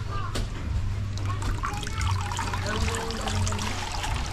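Strong stream of water gushing from a tap in a house laundry area, a steady trickling rush with a low hum beneath and faint background voices.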